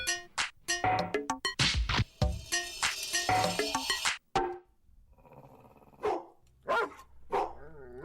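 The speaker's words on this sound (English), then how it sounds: "Who let the dogs in?" Dogs bark in a flurry of sharp, loud bursts packed with other busy sound, then a few separate, spaced barks follow after a short lull.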